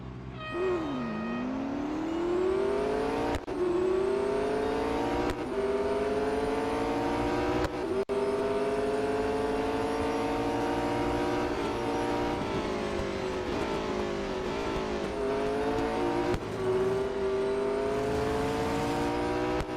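Race car engines roar at Indianapolis Motor Speedway's road course in the video game Real Racing 3, a loud, continuous high-revving whine that climbs and drops with repeated gear shifts, with no talking.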